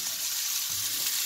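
Vegetables frying in oil with a pinch of salt give a steady, close hiss of sizzling, with a low rumble of the pan shifting partway through.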